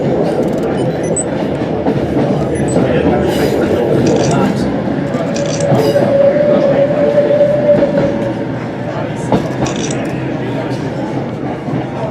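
A train rolls into Crewe station, a loud rumbling and rattling carriage noise with a brief squealing tone midway, heard from on board beneath background chatter.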